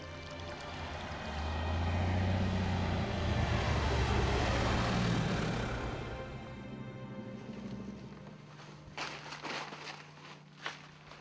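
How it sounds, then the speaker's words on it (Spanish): Small crop-dusting airplanes spraying pesticide over cotton fields, a loud engine drone that swells and passes by, then fades into quieter ambient noise with a few faint knocks. "Cada día, más de 100 avionetas cargadas de veneno salían a fumigar los campos de algodón"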